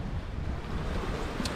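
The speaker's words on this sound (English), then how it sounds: "It's the easterly wind today, so it's not the best conditions." Easterly wind buffets the microphone on a Bristol Channel foreshore at Cardiff, a close, rumbling gusty roar with the wash of surf underneath.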